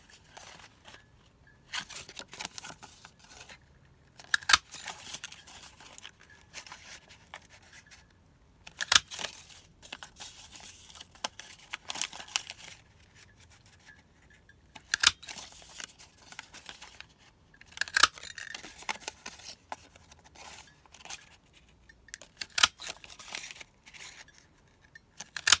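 Scissors cut out shapes from paper for an up-cycled nautical gift bag, close and quiet, with irregular bursts of snipping and paper rustling separated by short pauses.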